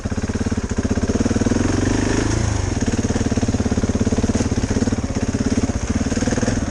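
A motorcycle engine runs at a steady, close, loud throb as the rider upshifts with a quick shifter and no clutch, bringing a brief change in engine note partway through.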